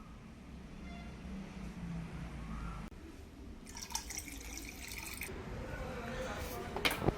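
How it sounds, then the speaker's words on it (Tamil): Water pours and drips into a home fish tank during a water change, with splashing bursts rising and falling under a quiet voice talking. "மறுபடியும் தண்ணியை ஊற்றி பார்க்கலாம் ஏதாவது இருக்கான்னு"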